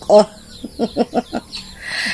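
Chickens clucking in a series of short, evenly spaced calls close by, in a rainy backyard setting, with a louder squawk at the start and steady rain-like hiss toward the end.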